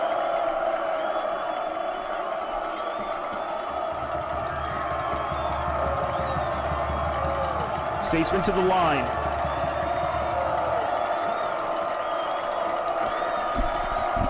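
Crowd at a college football game, RPI Engineers against Hobart, cheering the Engineer defense on third down, a broad steady roar of many voices with a brief surge midway, under a voice on the public address.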